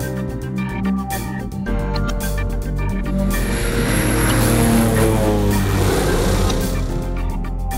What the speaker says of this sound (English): We got into the plane and took off.